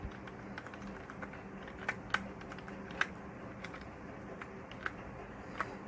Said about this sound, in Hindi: फिर हम यहाँ पे कुछ डाटा टाइप कर रहे हैं।